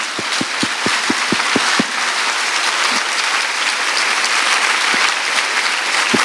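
A church congregation gives loud, sustained applause to honour students of a school, a dense wash of clapping that runs the whole time with a few sharper claps standing out at the start.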